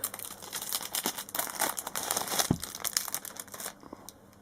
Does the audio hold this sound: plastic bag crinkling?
yes